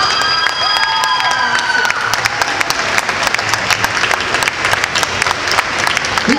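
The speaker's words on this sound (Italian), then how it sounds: "Fategli un applauso." A convention crowd claps and cheers for Italian voice actors as they are welcomed, sharp dense applause with a few whoops, faint tones fading early and a brief voice near the end.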